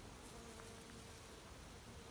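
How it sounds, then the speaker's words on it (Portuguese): Several bees, including a large carpenter bee, buzz steadily around a single flowering plant that blooms year-round, a faint, continuous drone with no talking over it. "Tá sempre cheio de abelha."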